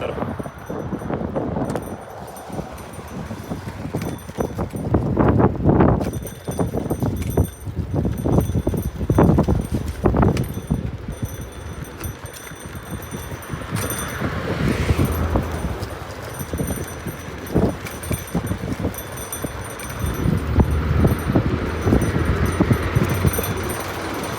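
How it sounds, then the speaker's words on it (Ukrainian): Strong wind buffets the microphone in heavy gusts, rumbling and roaring throughout, with faint rattling in the background, while riding a Jet electric scooter along Slobozhanskyi Avenue in Dnipro. "Дуже сильний вітер."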